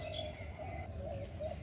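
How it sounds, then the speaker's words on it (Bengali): A spotted dove outdoors among garden plants coos in soft, steady repeated notes, moderately distant, with no talking. "কি পাখি বলেন তো এটা কিন্তু ঘুঘু পাখি"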